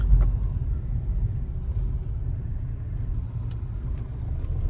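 Road traffic near a work site, a continuous low engine rumble of passing vehicles with a few faint higher clicks, moderately loud throughout.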